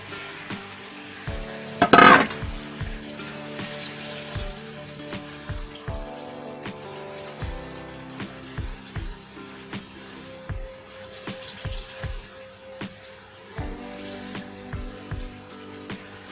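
Eggplant pieces drop into a hot pan of Bengali shrimp curry with lentil bori, a loud splattering burst followed by a quiet sizzle and scattered clinks of a spoon against the pan, with light music in the background.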